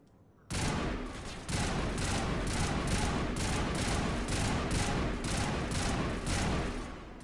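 A gun fires in a video game, a rapid sustained burst of loud shots that starts abruptly and keeps a steady, dense rhythm for several seconds, close and without talk.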